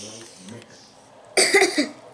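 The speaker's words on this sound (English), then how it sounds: "it's making me cough and my eyes water" A sudden burst of harsh, loud coughing close to the microphone after a quieter stretch, brought on by smoke from a smoked beef roast.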